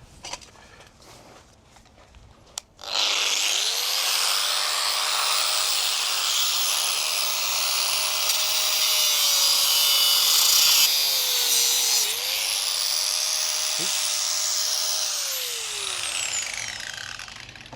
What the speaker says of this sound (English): the tool to do it is with my bag of abrasive discs